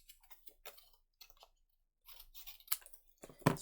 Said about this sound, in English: I find that sometimes you need to cut that corner off